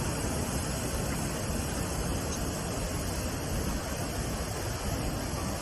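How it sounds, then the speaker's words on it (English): A waterfall roars in a dense, unbroken wash of broadband noise, steady and full from start to finish with no pauses or voices. "Still going to be able to hear you over the audio of the waterfall?"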